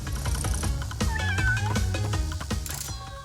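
A cat meows several times in Crash Bandicoot N. Sane Trilogy, the mews rising and falling clearly over steady game music and sound effects, with no talking.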